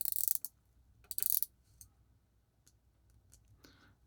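Two bursts of crisp ratcheting clicks as the knurled bezel of a Spinnaker Dumas Sahara watch is turned close up, followed by a few fainter isolated clicks in a quiet room.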